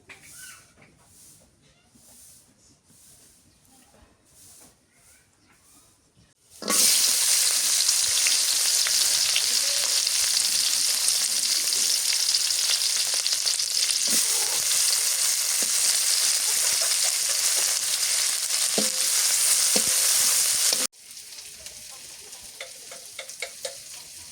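Dried fish frying in hot oil: a loud, steady sizzle that starts abruptly and runs for about fourteen seconds, then drops back to quieter kitchen sounds with occasional faint clicks.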